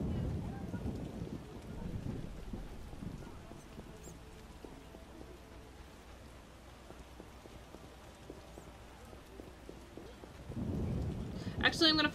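Rain and thunder in The Witcher video game: a steady hiss of falling rain with deep rumbles of thunder swelling at the start and again near the end, fairly quiet and distant.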